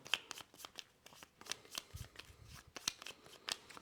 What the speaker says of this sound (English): So we're going to give those a good shuffle.